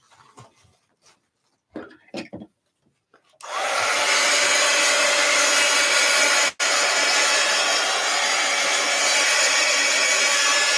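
After a few faint scattered sounds, a hair dryer switches on to dry an art journal painting, blowing loud and steady at close range with one brief cut-out midway.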